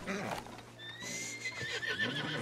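A horse in Red Dead Redemption 2 whinnies with a rising neigh over clip-clopping hooves, mid-loud and close, during a game mission to lead stallions, with background game sounds and voices.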